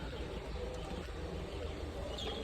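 Soft bird calls, including cooing, drift faintly over a steady breezy hush at Jaigarh fort in Jaipur, distant and low beneath the constant wind.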